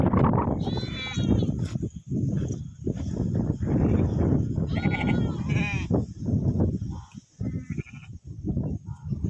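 Sheep bleat repeatedly in a pen, several close, loud overlapping calls one after another over a continuous farmyard background with no speech.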